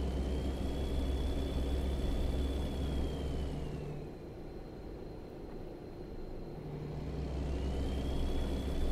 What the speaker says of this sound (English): as we're going downhill, you can hear the engine cut out